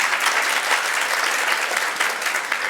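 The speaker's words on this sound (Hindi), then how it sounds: "ताली तो बजाओ अच्छे से।" Steady, loud clapping from a seated audience at a Jain religious class in Mumbai, a thick continuous patter of many hands with no voices over it.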